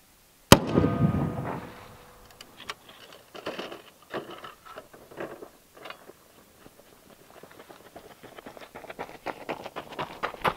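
A .50 caliber rifle fires a single loud, sharp shot that booms and decays over about a second, followed by quieter scattered knocks and rustling outdoors.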